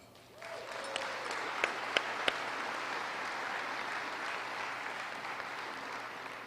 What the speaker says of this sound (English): I want to offer you a round of applause.